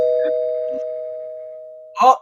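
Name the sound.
doorbell ringing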